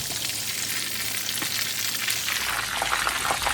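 Chicken donuts fry in hot oil with a steady, close crackling sizzle that grows busier toward the end, and no talking.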